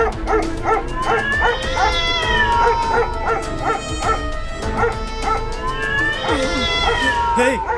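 Cats meow and yowl repeatedly in drawn-out, wavering cries, mixed with dog barks, close and loud, in an animated cartoon scene.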